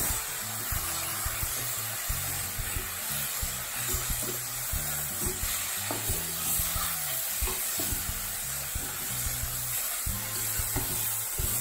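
Mint leaves sizzle and fry in a pan for chutney, a steady crackling hiss with clusters of soft clicks and stirring scrapes, close and continuous without talk.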